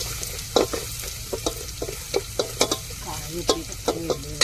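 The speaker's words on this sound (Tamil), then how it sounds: "இப்போ வந்து நம்ம பூண்டு சேர்த்துக்கிடுவோம்." Garlic fries in a pan with a steady soft sizzle, broken by repeated scraping stirs and light clinks of a spoon against the pan, close and moderately quiet.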